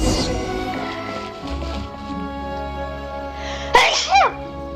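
A single sudden sneeze close by, cutting through low steady background hum.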